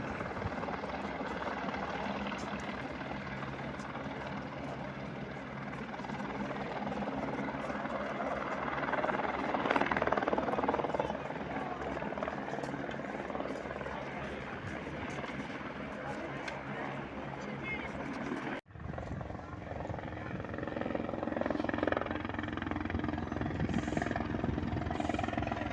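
At the Kedarnath helipad, helicopters make a continuous loud rotor and engine roar that swells and fades. People talk over it, and one abrupt cut shifts the background.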